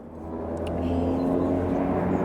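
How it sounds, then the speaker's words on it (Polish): A fixed-wing airplane passes overhead, a steady low engine drone with tonal hum that swells gradually louder across the stretch, heard alone without talk. "Samolot nam leci, więc chwilę zaczekamy."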